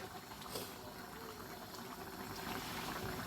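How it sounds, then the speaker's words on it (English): Brown stew fish simmers in a pot, giving a steady low bubbling and gurgling that runs evenly throughout, fairly quiet and close, with no talking. "that's browning, that's stewing down nicely"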